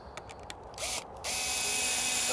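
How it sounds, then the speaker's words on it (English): Cordless power drill driving screws into a polytunnel clamping rail outdoors, a few short ticks of the bit seating, then a loud close whirring burst, a brief pause, and a sustained run of the motor. "And then we'll get that screwed in."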